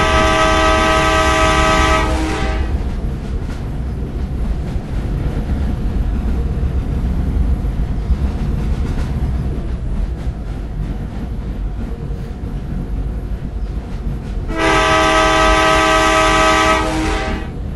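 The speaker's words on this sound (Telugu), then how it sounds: "హార్న్ కూడా ఇచ్చాడు." Train horn in the Indian Bikes Driving 3D mobile game, two loud sustained harmonic blasts of about two and a half seconds each, opening and closing the stretch with a steady rumbling train running between them.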